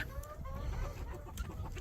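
Several chickens clucking close by in a farmyard during morning feeding, a quiet string of overlapping clucks and soft calls over a low background rumble.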